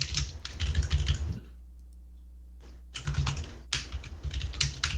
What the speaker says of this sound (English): Typing vigorously.